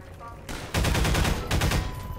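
Gunfire in the video game Half-Life 2. After a quiet start, a loud run of rapid shots bursts in and continues as repeated pulses, close and full, with no talk over it.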